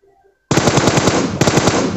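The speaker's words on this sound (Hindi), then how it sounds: "हमने फायर किया।" Rapid automatic gunfire in the PUBG Mobile battle royale game erupts after half a second of near silence, a loud, dense burst of shots with a brief break before the firing resumes.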